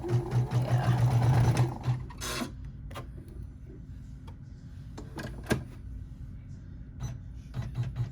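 An embroidery machine stitches in a brief loud burst of rapid needle chatter, then falls quiet with scattered clicks and light handling noises, and a faint return of stitching near the end.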